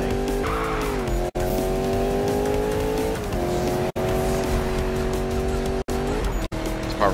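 Racing cars in Need for Speed 2015 roar loudly at sustained high revs, engine pitch shifting through gear changes, with tires squealing and skidding and a few brief cuts, the sound close and continuous.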